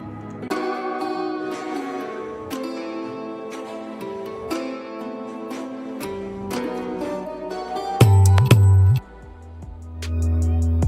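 An instrumental beat plays with steady kick thumps and layered percussion hits over melodic tones, ending in a heavy booming bass section.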